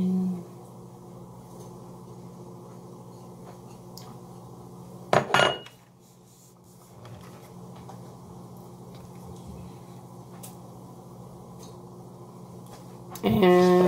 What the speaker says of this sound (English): you take your knife and you just scrape it all in